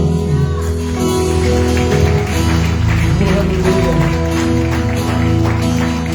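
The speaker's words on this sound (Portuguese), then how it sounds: "Aplaude aí quem pode." A church congregation applauds during a worship service, with steady clapping over sustained music and a voice briefly calling out.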